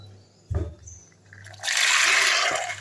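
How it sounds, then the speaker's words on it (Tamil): A soft clunk, then a steady rush of soaked peas and their soaking water pouring into a pressure cooker, splashing loudly for about a second before easing off. "அந்த ஊற வச்ச தண்ணியோடு போட்டுக்கோங்க"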